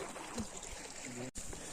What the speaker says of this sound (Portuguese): a gente já tá escutando o barulho da água